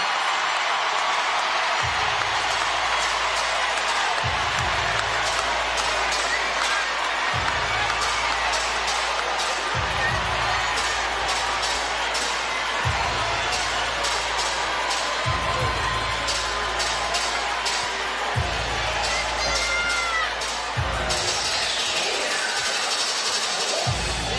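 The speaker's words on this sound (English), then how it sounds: "They've got a lot to cheer about right now." A boxing arena crowd roars and cheers after Claressa Shields' fight with Danielle Perkins, a dense, sustained wall of noise with dull rhythmic thumps underneath and commentators talking over it.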